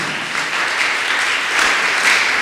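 A church congregation breaks into sustained applause, a dense, steady wash of clapping that holds at an even level and swells slightly toward the end, with no voices over it.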